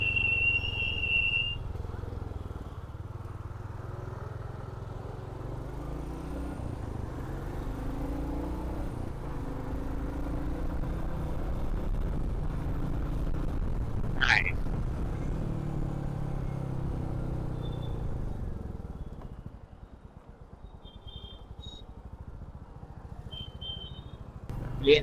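A freshly serviced motorcycle ridden along a plain road, its engine a steady low rumble with wind noise that rises and then dips near the end, heard from the rider's position, with one brief sharp click midway.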